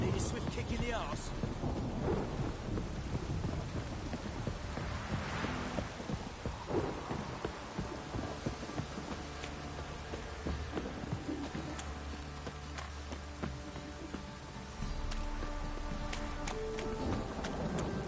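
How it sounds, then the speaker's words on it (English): Heavy downpour with rolling thunder in the video game Witcher 3, a steady hiss of rain on surfaces with deep rumbles building and receding throughout, loud and close, with no voices. "This downpour's a bastard, it is."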